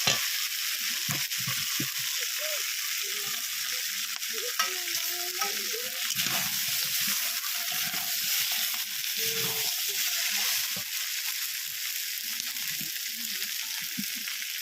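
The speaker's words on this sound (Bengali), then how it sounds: "এবার এর মধ্যে দিয়ে দেবো ভেজে রাখা আলু।" Fried potatoes going into browned country black rooster curry in a pan, with a dense steady sizzle and scattered soft scrapes of stirring, close and continuous.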